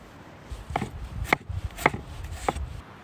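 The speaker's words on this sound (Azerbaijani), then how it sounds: "Soğanı doğrayırıq. Xırda doğramaq lazımdır." A knife finely chops onion on a board while cooking outdoors over a campfire, four close, crisp chops spaced evenly about half a second apart.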